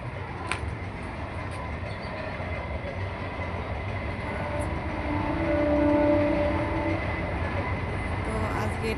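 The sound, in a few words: train passing by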